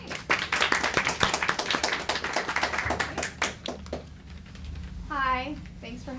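Scattered hand clapping from an audience greeting a presenter at a public speaking coaching session, a brisk patter of claps over the first four seconds that thins out as a voice begins talking.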